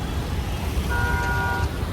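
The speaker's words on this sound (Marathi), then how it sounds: "ट्रॅफिक बघा, ट्रॅफिक." A busy city road at night in Dadar, Mumbai, rumbles with steady traffic noise, and a car horn sounds once with a sustained toot partway through, over the constant low roar of engines.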